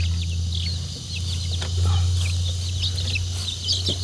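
Chickens cluck and chirp in short bursts, fairly close, over a steady low hum.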